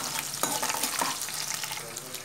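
Mustard seeds, cumin, chana dal, urad dal, onion and green chillies sizzle and crackle in hot oil, stirred briskly, with a dense close frying hiss and small pops.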